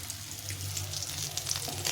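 Pieces of Rui fish fry in hot oil in a pan, giving a close, continuous crackling sizzle with small irregular pops throughout.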